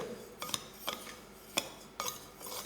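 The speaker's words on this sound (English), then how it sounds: "Now blend this all together with a spoon" A spoon stirs spices through a quinoa bake mixture in a bowl, giving a few soft scraping strokes and light clinks against the dish at an irregular pace, fairly quiet and close.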